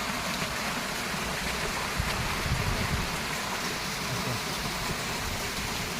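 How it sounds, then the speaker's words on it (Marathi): The Kalmandavi waterfall gives a steady, dense rushing roar that continues unbroken and loud from start to finish, with no voices over it. "इथलं हा आहे धबधबा उजव्या साईडचा काळमांडवी येथील उजव्या साईडचा हा धबधबा आहे"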